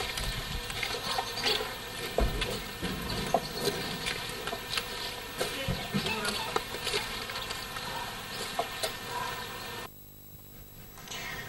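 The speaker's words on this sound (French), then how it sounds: "Il y a encore une abeille qui est restée là." A honeybee buzzes close by near an open beehive honeycomb, a steady, thin drone that continues for several seconds with occasional faint speech and handling noise, then cuts off abruptly near the end.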